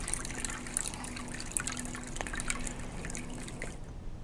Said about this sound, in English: using a coffee filter paper, the solution is filtered